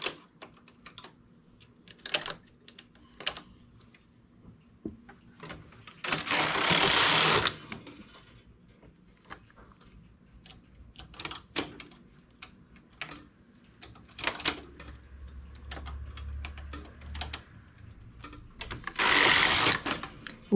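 A knitting machine works a 1x1 ribbed adult tank top, its carriage sweeping across the bed in loud rattling passes between quieter mechanical clicks and ticks, with no talking.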